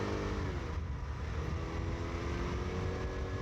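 Kymco People S 200i scooter engine pulling away under acceleration at around 5000 rpm, a steady loud close drone with dense low rumble and harmonic whine that holds throughout with no voices.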